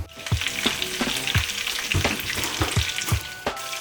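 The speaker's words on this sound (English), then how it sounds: "We're just gonna grab a large frying pan and it should do the job perfectly." Breaded monkfish scampi fries in a large frying pan with a loud, dense sizzle throughout, broken by repeated soft thumps and scrapes as pieces are stirred and moved.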